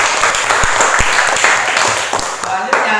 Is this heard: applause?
yes